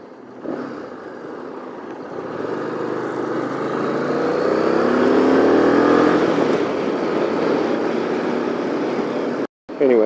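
Harley-Davidson Street Rod 750 motorcycle engine, a loud, close, sustained roar that builds in pitch as it revs up, holds, then cuts out briefly near the end before resuming.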